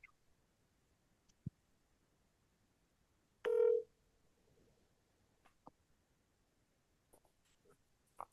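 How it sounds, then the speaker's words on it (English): Telephone ringing played through a computer speaker: a single short tonal ring burst of under a second, fairly faint and thin, amid quiet room noise with scattered small clicks. "We hear it. We hear the phone ringing."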